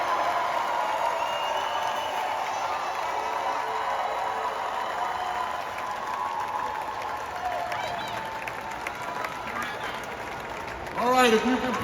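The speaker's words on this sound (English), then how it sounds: "cheer for these dads today and for Happy Father's Day" At a Father's Day 2024 event, a large crowd claps and cheers steadily for about eleven seconds, a dense roar of applause heard from within the audience, with a brief louder swell near the end.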